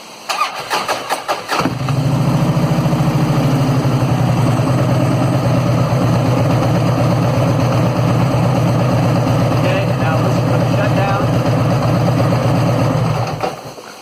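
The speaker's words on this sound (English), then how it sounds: "I power up the bike, wait for the check engine light to go out, and then listen for the compensator" A Harley-Davidson motorcycle engine with a modified 5-spring compensator cranks with a few stuttering bursts, catches, then settles into a loud, steady, lumpy idle before shutting off near the end.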